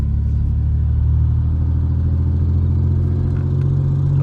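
A running Oldsmobile Cutlass Ciera wagon engine with a rough fault, heard from inside while driving as a constant low, uneven rumble with a slight clatter and no speech.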